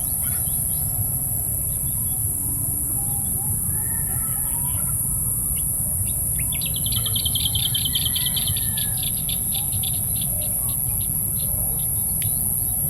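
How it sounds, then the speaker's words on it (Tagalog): Scattered bird chirps and a short trilling song over a steady outdoor hum with a high insect-like whine on a rural farm with okra plants, calm and fairly distant. "Yung mga huni lang ng naibon yung maririnig nyo."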